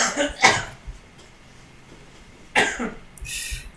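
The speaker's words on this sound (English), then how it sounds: "That's actually a roommate in the background coughing, not me" A roommate coughs off-mic in a room during a Smash roster discussion, giving two distinct bursts of harsh coughing a couple of seconds apart, moderately loud against quiet background.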